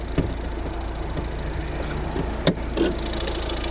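A Volvo V50 car engine idles with a steady low hum, quiet and smooth, broken by a couple of brief knocks and clicks.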